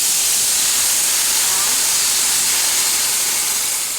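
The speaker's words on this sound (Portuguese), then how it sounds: "E em seguida vocês vão jogar o vinho." Wine poured over hot risotto rice sizzles loudly and steadily, a dense close hiss with no break.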